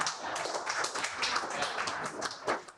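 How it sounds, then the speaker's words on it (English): Scattered clapping from an audience applauding Nathan, a few hands at moderate distance, loose and uneven in rhythm and fairly quiet. "Another round of applause for Nathan, please."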